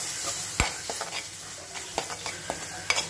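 Ginger garlic paste fries in a hot pan for a quick egg recipe, giving a steady close sizzle broken by a few sharp stirring scrapes and clicks of a spoon against the pan.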